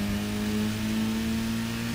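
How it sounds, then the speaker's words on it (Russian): Car engine accelerating in the racing video game Burnout Paradise, a steady continuous mid-pitched hum with a strong sustained tone, loud and unbroken throughout with no talk. "Итак, разгоняем нашу машинку"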